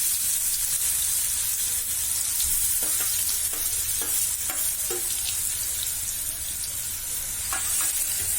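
Continuous crackling sizzle of cumin and asafoetida frying in hot oil for a raw mango sambharo, with occasional stirring taps and scrapes throughout.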